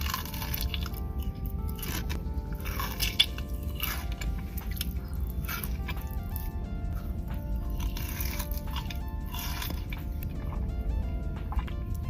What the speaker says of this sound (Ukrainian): Найбільшу популярність шоколадці від бренду FIX принесли відео ASMR від мукбангерів.